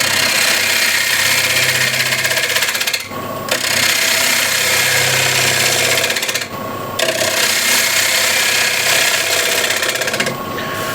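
A wood lathe spins a large wooden bowl at 900 RPM while a tool cuts a recess, giving a loud continuous rasping hum that stops briefly three times before resuming.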